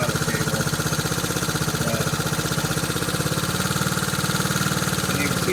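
A 1969 Honda CT90 motorcycle idles close by with a steady, rapid single-cylinder putter that holds an even rhythm throughout, alone, with no voices over it.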